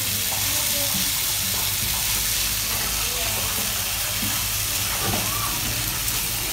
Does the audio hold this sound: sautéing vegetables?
yes